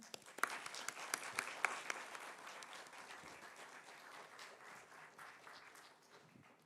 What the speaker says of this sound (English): Please join me in giving Arsh a warm round of applause.